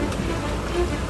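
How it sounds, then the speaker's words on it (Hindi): Heavy rain falls steadily during flooding in Navsari, Gujarat, a dense, continuous hiss of downpour close by with no clear breaks across the short stretch. "गुजरात के कई जिलों में भारी बारिश हो रही है"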